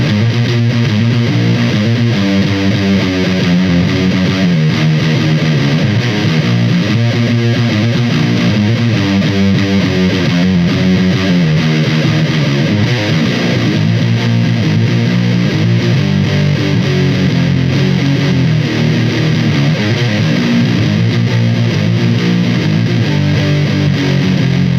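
A distorted electric guitar through a TC Electronic Röttweiler distortion pedal plays a riff with a thick, dark, muffled tone, loud and continuous, low end heavy and treble rolled off.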